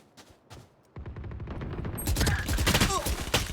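Rapid automatic gunfire from a shooter video game, bursts of shots building from sparse pops into dense, loud continuous firing with overlapping bangs and a few clinking tones.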